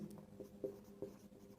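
Pen or marker writing on a board during a class 10 maths lesson on ratio construction, a few short scratchy strokes close by and fairly quiet, with no talking.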